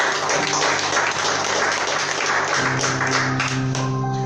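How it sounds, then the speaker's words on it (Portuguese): Church congregation applauding together in a worship service, a dense steady wash of clapping throughout, with sustained musical tones rising underneath in the second half. "Diga graças a Deus e aplauda o nome de Jesus."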